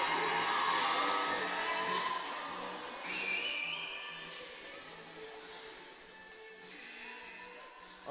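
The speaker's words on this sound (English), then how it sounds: "Also nice to hear a crowd here today as well." Crowd at a sports match cheering, whooping and whistling, loudest at the start and then easing into a softer, sustained hubbub with scattered shouts.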